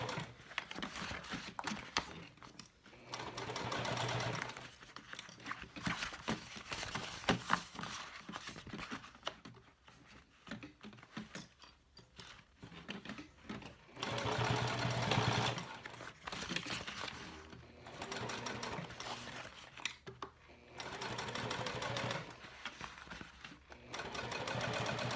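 A sewing machine stitches a cork clutch in bursts of rapid mechanical whirring, pausing between runs as the fabric is turned around a curve, close and clear with faint handling sounds in the gaps.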